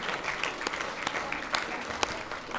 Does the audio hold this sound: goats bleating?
no